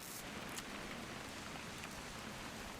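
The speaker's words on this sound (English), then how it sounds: "It's gonna rain the whole weekend, isn't it?" Steady rain falls in the video game What Remains of Edith Finch, a dense, even hiss of drops with no pauses throughout, and no voices.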